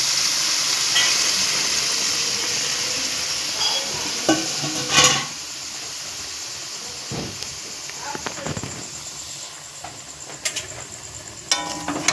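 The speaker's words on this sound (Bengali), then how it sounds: "এইবার ধুয়ে রাখা জলটা দিয়ে দেবো" Chicken curry masala in a hot pan hisses and sizzles steadily as water goes in, with sharp crackling pops and spits breaking through the continuous frying noise.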